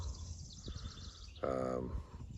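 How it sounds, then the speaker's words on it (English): Ordinary backyard birds call outside a home, faint chirps scattered through a steady background hum, with one louder harmonic call in the middle. "normal bird sounds"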